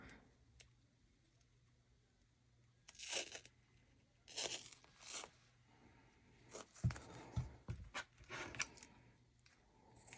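Medical tape torn in a few short ripping bursts, quiet and close, with small ticks and crinkles between pulls while a soft journal cover is made.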